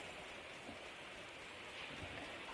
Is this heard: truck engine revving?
no